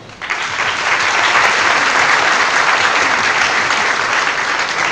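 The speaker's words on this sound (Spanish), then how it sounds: "Un aplauso para él" A crowd bursts into steady, loud applause that carries on evenly for several seconds.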